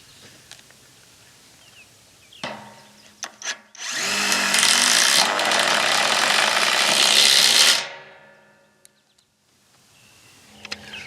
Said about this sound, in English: And then we'll put the rest of the Tek screws in.